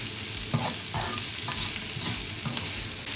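Garlic and onion sizzle in a pan for a spaghetti meat sauce, a steady close hiss of frying broken by repeated scraping stirs of a utensil about every half second, with no voices.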